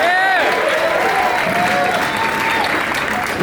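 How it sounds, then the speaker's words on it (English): Concert audience at the Fillmore in San Francisco applauds steadily throughout, a dense wash of clapping with a voice heard over it. "Give a hand to Dan and Dunning doing our sound for us"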